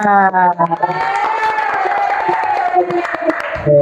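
Children in a classroom clapping in a quick burst of claps, mixed with loud high-pitched cheering and shouting voices that carry over the applause for a few seconds.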